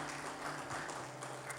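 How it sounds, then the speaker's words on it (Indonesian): A church congregation at a Christmas celebration service applauds the organizing committee, a steady, dense wash of clapping from a crowd, fairly quiet and distant, with no talk over it. "Tepuk tangan yang paling keras untuk panitia."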